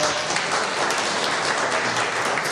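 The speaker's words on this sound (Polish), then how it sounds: "Wielkie brawa pani Marcie" Dense, continuous applause fills a municipal council session, a roomful of hands clapping at an even level with no pauses and no talk.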